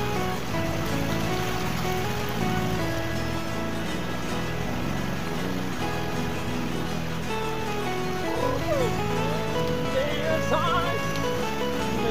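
Steady broadband rush of flowing water fills the whole stretch, loud and close, with faint voices and tonal sounds layered underneath.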